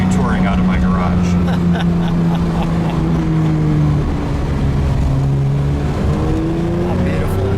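A Porsche 911 S/T (2024, 992.1) sports car engine rumbles steadily at close range, its low drone rising and falling slightly as it runs, with faint background noise throughout.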